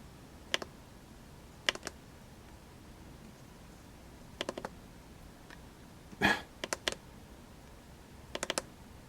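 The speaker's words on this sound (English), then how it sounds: "you gotta double click it through several rounds before it will turn off" The button on a JF EGWO battery jump starter's flashlight is pressed repeatedly, giving quiet, sharp clicks in small clusters of two to four, spaced irregularly against a faint background.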